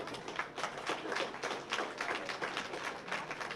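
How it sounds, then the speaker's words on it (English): A livestock show audience applauds a junior showmanship group of youngsters, a faint, steady patter of many hands clapping from a distance for a few seconds with no voices. "youngsters a round of applause."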